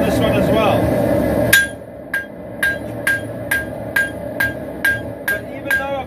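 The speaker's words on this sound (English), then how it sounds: "I'm forging out the bevels" Hammer forging the bevels of a steel dagger, striking about a dozen sharp, evenly spaced metallic blows close by after a stretch of louder background noise.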